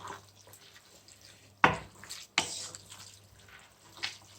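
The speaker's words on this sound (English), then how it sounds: "At this stage, I would like to add a bit of water just to level up with the rice so that it will cook perfectly." Water being added to coconut rice in a pot in a home kitchen, with two sharp splashes and pouring sounds followed by softer drips and stirring, close and fairly quiet.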